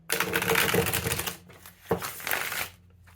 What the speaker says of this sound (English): I'm going to go in and shuffle.